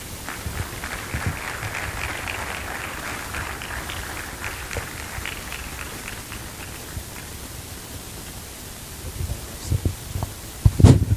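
An audience at the opening ceremony of a medical students' general assembly gives a sustained round of applause, a soft hissing wash of many hands heard from a distance, with a few louder knocks near the end and no talk.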